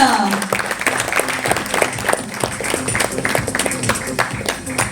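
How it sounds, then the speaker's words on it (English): Audience applause at the launch ceremony of a women's handball league in India, with steady, dense clapping from a crowd lasting throughout, mixed with a few voices. "Can we please invite him on the stage with a huge round of applause?"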